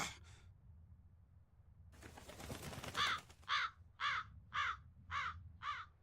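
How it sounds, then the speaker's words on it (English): A crow in the video game Tales of Berseria caws five times in an even rhythm, sharp and fairly close, after a brief rustling flutter of wings over a quiet ambient backdrop. "That crow just flew off with the coin!"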